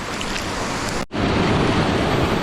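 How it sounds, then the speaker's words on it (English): Crystal Creek Falls in Whiskeytown National Park gives a steady, loud rushing roar of falling water that cuts out for a split second near the middle, then resumes at full strength. "this is the Crystal Creek Falls in Whiskeytown National Park"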